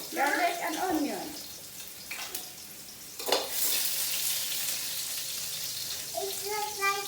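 Garlic and onion frying in hot oil, giving a steady close sizzle that runs throughout under a voice talking.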